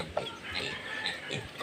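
Farm chickens cluck in short bursts close by, mixed with other birdlike calls over a low background.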